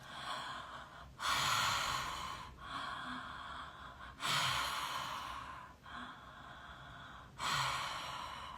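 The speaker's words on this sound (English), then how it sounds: "So circular breathing, it's also called, or connected breathing, in and out through the mouth." Connected breathwork through the mouth: long, forceful inhales and exhales follow one another without pause, close and loud, with no talking over them.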